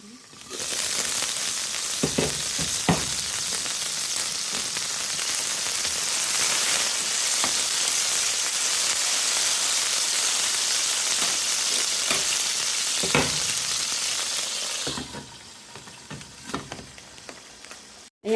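Loud, steady sizzling of oil heating in a covered pan for cooking noodles, a dense crackling hiss that continues for a long stretch before quieting, with a few knocks.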